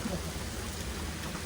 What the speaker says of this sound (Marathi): आम्ही दोघं इथं थांबलोय पाऊस आलाय म्हणून.